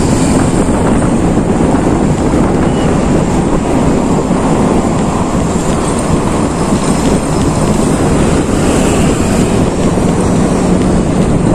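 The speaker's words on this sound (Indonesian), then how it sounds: "Yang di atas adalah jalur LRT yang datang dari Pegangsaan 2 menuju ke Velodrome Rawamangun." A loud, steady rumble of an LRT train rolls past continuously on the elevated line overhead in Kelapa Gading, Jakarta, mixed with heavy wind buffeting on the microphone and no speech.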